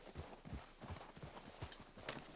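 Horse hooves clip-clop at a walking pace through snowy hills in Red Dead Redemption 2, a steady run of soft, fairly close thuds heard alone, with no talk over them.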